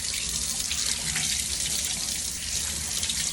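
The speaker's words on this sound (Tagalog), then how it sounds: "Ang sunod ay buksan mo yung tubig." Tap water runs steadily into a kitchen sink to wash rice before cooking it in a rice cooker, a constant close splashing hiss with no voices.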